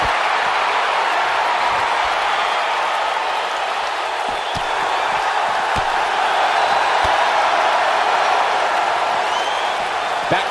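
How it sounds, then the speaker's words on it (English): Crowd cheering in the WWE 2K19 wrestling video game during a tag team match, a steady, dense roar of many voices holding loud and unbroken for about ten seconds. "the crowd is loving Sasha's act"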